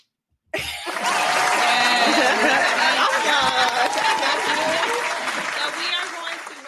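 A small group breaks into hand-clapping applause after a moment of silence, dense and close, with chatter and a few chuckles mixed in as the clapping slowly tapers.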